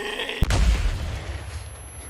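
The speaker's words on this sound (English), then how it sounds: "How about a flashbang?" A flashbang grenade goes off in the zombie-horde survival game Days Gone: a sharp, loud crack followed by a booming low rumble that fades with a ringing tail, with no voices over it.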